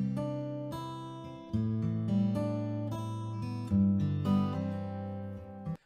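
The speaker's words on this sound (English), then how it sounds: "let's just switch that send off so we can hear how that acoustic guitar sounds without the reverb" Dry acoustic guitar with no reverb plays a slow sequence of strummed and picked chords, each attack clear and close with notes ringing briefly before the next change.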